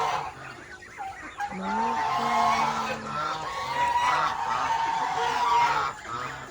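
Chickens on a farm: a flock clucking and honking close by, with a few loud calls rising over a steady busy chatter of birds, and no clear talk.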